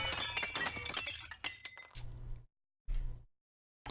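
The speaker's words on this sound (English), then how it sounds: "It tragically shatters into countless fragments." Glass door in a video game dropping to the floor and shattering, a burst of crashing breakage and tinkling shards that quickly falls away into silence, followed by short muffled thumps.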